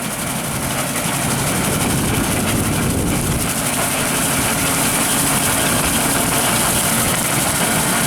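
Tractor driving a 15 ft Woods brush hog set at 1500 RPM in low gear, cutting a golf course; a loud, steady engine and blade roar that holds without a break.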